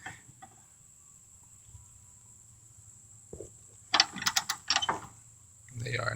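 A ratchet works on a Chevy Cobalt motor mount bolt: a quiet stretch with faint hum, then a brief, close burst of rapid clicking and metallic ratcheting before a low rumble returns.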